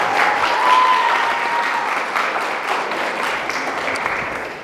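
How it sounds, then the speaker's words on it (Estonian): An audience at a grandmothers' dance group's 35th anniversary party in Kuusalu claps steadily, a dense, sustained round of applause filling the room. "Teeme talle aplausi."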